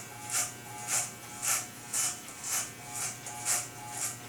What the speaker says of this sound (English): So I'm just shaving the hair above that line with a number 2.